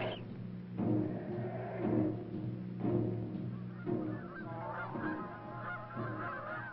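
Geese honk repeatedly in a loose, irregular series of calls, fairly clear and unaccompanied by talk, like a flock of migrating birds.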